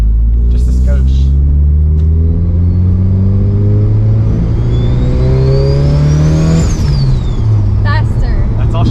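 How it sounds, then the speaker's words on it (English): Turbocharged Mitsubishi Evo engine accelerating hard inside the car, a loud sustained roar climbing steadily in pitch with a whistling turbo whine rising above it, then dropping sharply at a gear change before building again. "I want us to listen to the turbo."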